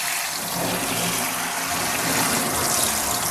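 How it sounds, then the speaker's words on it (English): Running water rinses lather off a clay sculpture mold being prepared for plaster casting, a loud continuous splashing and gushing rush that fills the whole stretch, with no speech. "Some water, and we're going to rinse it off."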